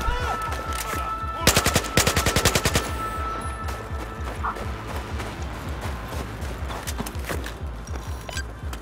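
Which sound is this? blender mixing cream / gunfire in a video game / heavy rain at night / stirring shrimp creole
gunfire in a video game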